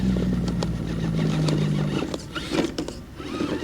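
An Element RC Ecto crawler's electric motor, driven by an SC408 ESC, runs with a steady, quiet low hum for about two seconds, then fades into softer mechanical whirring and light clicks.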